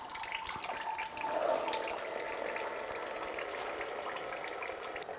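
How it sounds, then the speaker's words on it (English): Coolant trickling and dripping from a 2004-2009 Subaru Outback's lower radiator hose after it is pulled off the thermostat housing, a steady close-up watery patter with no talk. "Be careful for coolant that probably should slip out a little bit."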